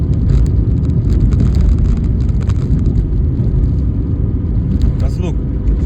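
An old car bought for $400 with its engine running loudly, a heavy continuous low rumble close by, with a brief voice cutting in near the end.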